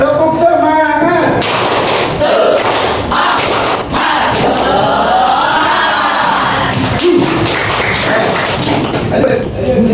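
A classroom audience of teachers claps the rhythmic Indonesian tepuk semangat cheer, a loud, dense burst of patterned clapping and thumps with shouting voices mixed in, running almost continuously from start to end.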